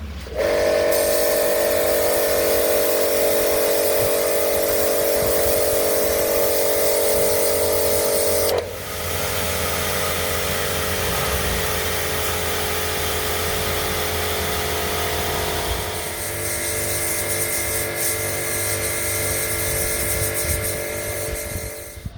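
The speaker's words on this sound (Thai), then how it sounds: "เครื่องฉีดน้ำแรงดันสูงของ STR นะครับที่ทางร้านเรานำมารีวิว" An STR high-pressure water washer runs steadily nearby, a loud continuous motor drone with a strong whine and hissing spray; partway through the tone drops and shifts as the pressure changes, then it keeps humming without talk.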